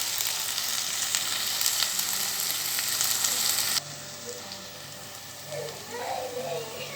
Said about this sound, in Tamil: இதையும் கொஞ்சம் நேரம் நம்ம வதக்கி கொடுக்கலாம் அப்படியே அது கொஞ்சம் நேரம் வதங்கி வரட்டும்